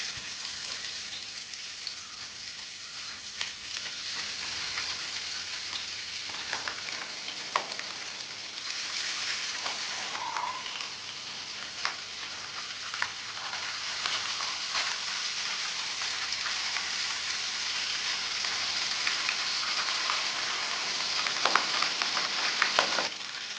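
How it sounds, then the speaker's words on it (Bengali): Pabda fish fry in heated mustard oil in a frying pan, a faint, continuous crackling sizzle like light rain that runs on steadily for the whole stretch, with no voices. "আমি এখন একটা ফ্রাইং প্যানে সর্ষের তেল গরম করে এর মধ্যে মাছগুলিকে ভেজে"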